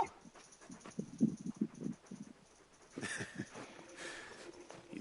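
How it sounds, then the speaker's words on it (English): Large dog companion Torgal in the video game Final Fantasy 16 gives a series of short whimpering, snuffling sounds with soft footstep-like thuds, close and fairly clear with no talk over it. "You're just a big puppy, aren't you? A very big puppy."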